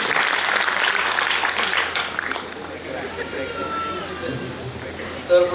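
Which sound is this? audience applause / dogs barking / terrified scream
audience applause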